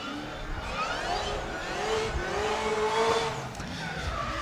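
Nissan S15 drift car on a touge hill course at a Drift France round, engine wailing and rising in pitch with tire squeal, heard from a middle distance.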